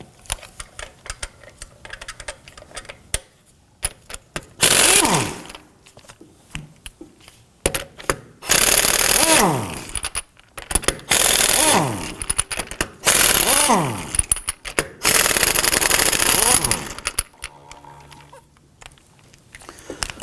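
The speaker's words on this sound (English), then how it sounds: "Using a thin wall 19mm socket, we're going to go ahead and loosen and remove our lug nuts here." Wheel lug nuts on a 2005-2009 Subaru Legacy being loosened and spun off with a thin-wall 19mm socket: bursts of loud whirring ratchet or impact-tool rattling separated by quiet gaps, close by.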